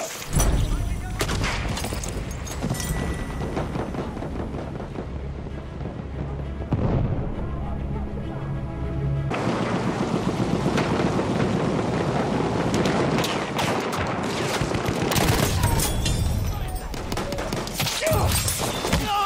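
Battlefield 1 wartime combat with gunfire and artillery: dense, continuous loud explosions and shots rumble throughout, with a brief quieter dip before the din surges back even heavier.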